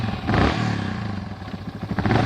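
A motorcycle on a mountain outing in stormy, gusty weather cranks and sputters without catching. The close, rough mechanical churning comes with some clatter and never settles into a steady idle.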